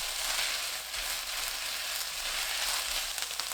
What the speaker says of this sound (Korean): 1분 후 미림 2큰술 넣고 1분 볶습니다.